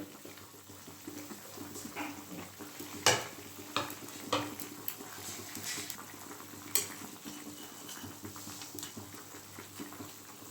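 Fried tengra fish dropped into a boiling cauliflower curry, with steady bubbling and stirring, sharp clinks and splashes near the start and middle, close and moderately loud.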